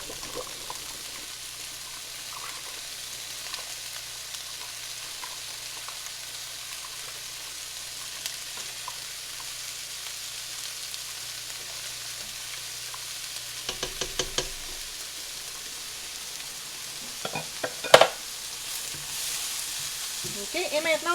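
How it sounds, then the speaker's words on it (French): Pasta boiling in a pot for garlic pasta with vegetables and chicken, a steady low bubbling simmer throughout, with a few brief clinks and scrapes of stirring near the end. "On n'oublie pas de garder un œil sur nos pâtes, de les brasser une fois de temps en temps."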